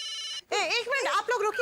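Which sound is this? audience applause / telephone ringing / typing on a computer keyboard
telephone ringing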